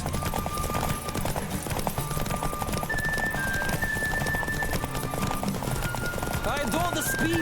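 Hooves clip-clop at a steady gallop in The Witcher 3: Wild Hunt, with whinnies and a game soundtrack running underneath throughout.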